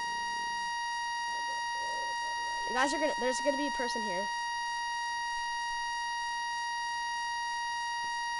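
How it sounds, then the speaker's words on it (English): A continuous, unbroken electronic beep tone holds steady through the whole stretch, while someone speaks briefly partway through. "There's just a big beep."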